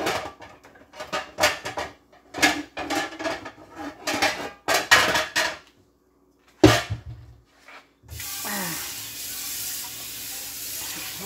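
White sweet yams clatter into a metal pot in a run of sharp knocks and scrapes, then a short pause, a single loud clank, and a steady hiss of cooking takes over.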